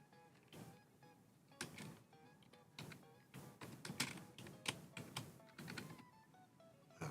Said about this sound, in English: just typing in a couple notes here.